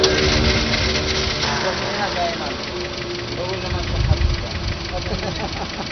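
An old car engine, started remotely through a phone, runs with a rough, knocking idle under a voice speaking over it.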